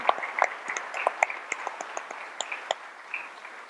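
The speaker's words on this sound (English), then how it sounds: "please join me in giving a huge round of applause and thank you to our speakers" Audience applause after a panel of speakers at a talk on legal prohibitions of torture: scattered, moderately sized clapping with distinct individual claps, steady then thinning, with no talking over it.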